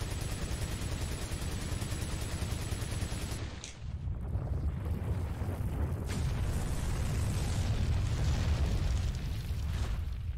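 Automatic gunfire in the video game Resident Evil 4, a dense low rumble of rapid shots and blasts that runs almost continuously, with a brief gap early on and no talking over it.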